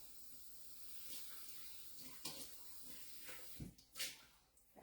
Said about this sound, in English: So I am going to rinse this bowl because it's got a little whey in it still.